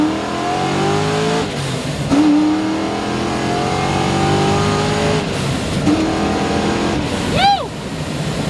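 A 620-horsepower Mystic Cobra accelerates hard through second and third gear, its engine note climbing in long rising sweeps with brief dips at each shift, loud and close throughout, ending in a sharp high rev flare.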